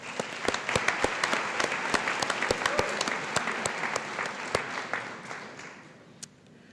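Audience applause at a high school awards night, steady dense clapping from a crowd with distinct nearby claps standing out, holding level before tapering slightly at the end.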